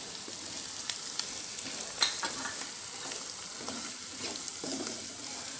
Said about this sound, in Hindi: अब हम इसमें सब्ज़ मिर्च डाल देंगे और ये टमाटर डाल देंगे और थोड़ी देर भूनकर फिर दूसरे मसाले डालेंगे